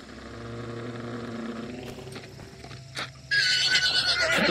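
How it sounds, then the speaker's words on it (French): A horse in the Hunt: Showdown video game whinnies loudly with clip-clopping hooves under it, then the sound gives way to a sharp, bright burst of noise near the end. "Oh, un cheval."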